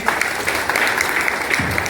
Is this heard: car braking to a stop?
no